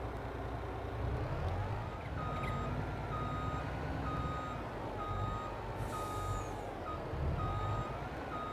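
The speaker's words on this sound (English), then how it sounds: "Let's go back to the lorry and we'll just back into it." A lorry in Farming Simulator sounds its reversing alarm, a regular series of high beeps over the low drone of the engine, steady and close the whole way through.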